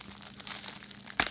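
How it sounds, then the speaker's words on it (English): A small mail package is torn open, giving soft crinkling and crumpling of paper or plastic that ends in a brief, sharp rip near the end, close and fairly quiet. "So let's rip it open and see if I can rip this open."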